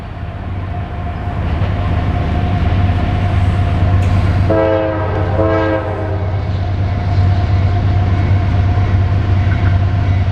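An eastbound CSX intermodal freight train rolls past at close range in Marion, Ohio, a loud steady rumble of wheels and cars, with a brief horn blast partway through over the continuous roar.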